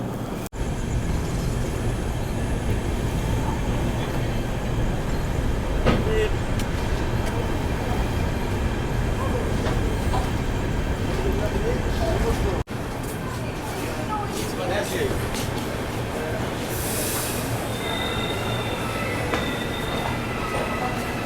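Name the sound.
Rani Kamlapati Agartala Special train crossing at station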